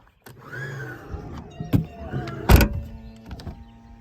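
Power sliding door on a Chrysler Pacifica minivan running electrically along its track, with a whirring motor and a solid thunk as it latches near the end, close by with no talk.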